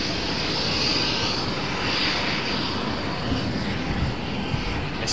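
Boeing 747 jet engines running at Amsterdam Schiphol airport produce a steady, dense roar with a faint high whine, continuous and unchanging throughout, heard from nearby with no voices.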